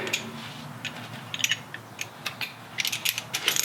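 A ratchet clicks in short bursts as it snugs up a rear brake bolt on a Mazda Miata, close and fairly quiet, the pawl chattering irregularly between pauses.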